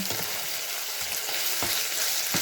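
Ground meat for Greek-style moussaka fries in a pan, giving a steady, close hiss of sizzling oil broken by the periodic scrape of stirring.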